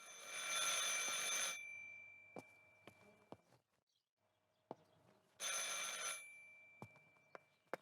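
An old telephone in the Martha Is Dead game rings in two loud, bright metallic bursts separated by a quiet gap, with scattered soft clicks and knocks in between.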